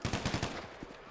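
Rapid gunfire in a military roleplay video game rattles off in a quick burst of about five evenly spaced shots, then a few softer scattered pops. The whole burst sounds fairly faint.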